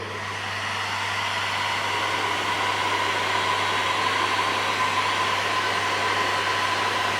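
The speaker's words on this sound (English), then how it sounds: "we're going to grab the heat gun and just heat all around the edges so they relax and fold over the edge" A heat gun blows a steady, even rush of hot air over the edges of vinyl wrap film on Nissan Patrol Y62 interior trim, loud and close, running without a break and with no talking.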